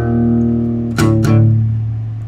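Electric guitar in drop D tuning plays a short riff, a sustained low chord with two sharp palm-muted attacks around the one-second mark, close and fairly loud with no voices.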